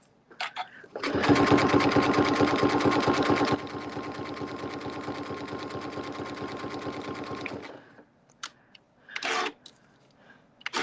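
A home sewing machine runs a narrow zigzag stitch on a bag panel, a close, steady, fast mechanical whir that slows partway through and stops, followed by a few faint handling sounds.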